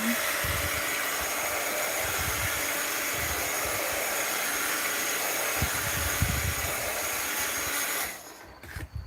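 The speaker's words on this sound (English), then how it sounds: "let's kind of hit this with the heat gun" Heat gun blowing hot air across a mixed-media art journal page, a steady loud whooshing roar held for about eight seconds before cutting off, with faint handling noise at the end.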